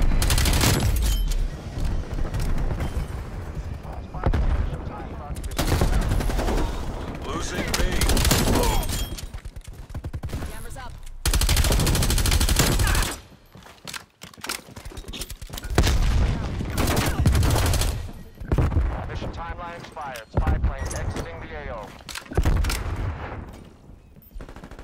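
Gunfire from a turret in the shooter Call of Duty Black Ops Cold War, during a Domination match on the map Hijacked, comes as loud sustained bursts of fusillade and machine-gun fire with brief gaps, mixed with game voice callouts.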